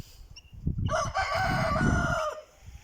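Chickens cluck and a rooster crows loudly nearby, a sustained crowing call over busy clucking from a flock of hens and guinea fowl.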